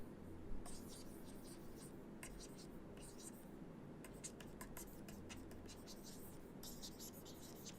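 A pen scratches across paper while an English essay is being marked, in quiet bursts of short, dry strokes at close range, with a soft voice talking underneath.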